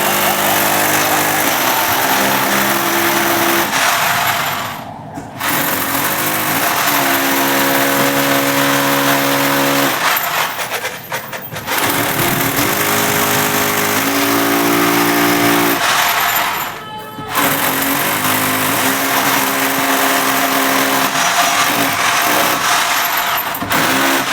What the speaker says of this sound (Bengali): দাগ দেওয়ার শেষে কিন্তু আমি ড্রিল মেশিন দিয়ে ড্রিল করবো